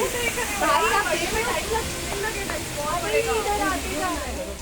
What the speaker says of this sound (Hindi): जहां मसूरी यमुना पंपिंग योजना की बड़ी पाइपलाइन फट गई